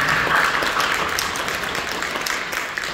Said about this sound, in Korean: 격려하며 박수 주십시오.